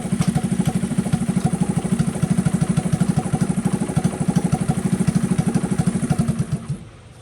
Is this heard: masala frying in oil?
no